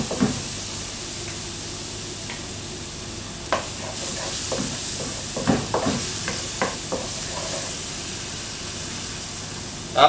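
Crushed garlic fries in butter in a pan with a steady, close hiss of sizzling, broken by a few light clicks and scrapes of stirring scattered throughout.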